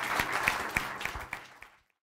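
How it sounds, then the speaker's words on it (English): Audience applause for Andrew at a Harvard startup pitch competition, a short burst of clapping with a few sharp individual claps that thins out and stops. "So a big round of applause for Andrew"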